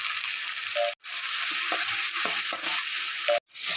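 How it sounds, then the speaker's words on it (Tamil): Ground masala sautéed in a pan for a country chicken gravy, a loud continuous sizzle with faint scraping stirs, cut by two brief silent gaps. "மசாலா சேர்த்து நல்லா வதக்கலாம் நல்லா வதக்கி விட்டுக்குங்க"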